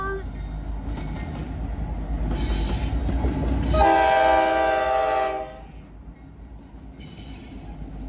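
Train horn blowing for the 6th Street crossing in Muncie: a loud, sustained horn blast over rumbling wheels, then fading to a quieter rumble with a short final horn note.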